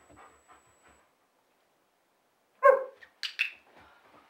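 A dog gives a couple of sharp, loud barks during heel training after a quiet stretch, with soft panting and faint movement around the yelps.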